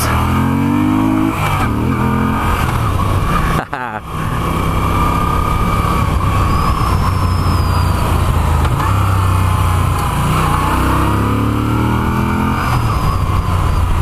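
A stock Moto Guzzi V7 III Special accelerates hard along a wooded road, its engine note climbing through the gears with a brief dip at a shift, loud and close under some rider talk and wind rush.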